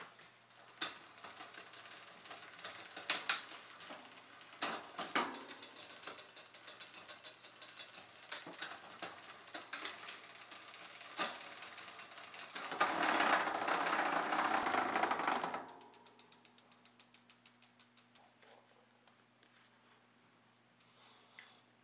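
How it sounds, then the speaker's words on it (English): Small metal ratcheting and clicking while a bicycle derailleur's B-tension screw is tightened on a 9-speed drivetrain with an 11-50T cassette, close and quiet, with a busier mechanical stretch near the end. "Tighten the B-tension screw to extend the gap between the guide pulley and the bottom of"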